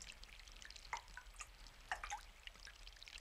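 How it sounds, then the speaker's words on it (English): Rain drips and trickles through a zinc gutter in the Symphonic Rain video game, with soft, irregular droplets and a faint, steady watery wash, quiet and close. "The sound of rain flowing through a zinc gutter."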